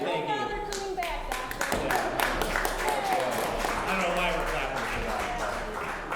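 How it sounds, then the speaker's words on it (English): A group of people claps steadily for a few seconds at close range, a dense patter of hands with some voices talking over it. "I don't know why we're clapping for that"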